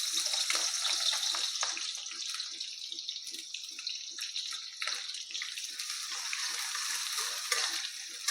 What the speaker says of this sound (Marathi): आता यामध्ये टाकून घेऊया कांदा.